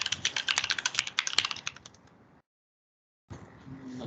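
Quick bursts of keystrokes on a computer keyboard as a server username and password are entered, close and crisp, then a short silence and a fainter mechanical rustle.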